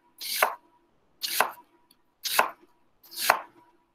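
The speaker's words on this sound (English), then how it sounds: "if I wanted some real nice thin sliced onions, just do a thinner cut" A kitchen knife slices through onions on a cutting board in four evenly spaced, crisp chops, each a short bright crunch ending in a soft thud on the board, close and clear with no talking.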